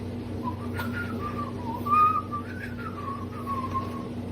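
A whistled tune played as a sound effect, a clear, wavering melody that rises and falls over a steady low hum, with no talk over it.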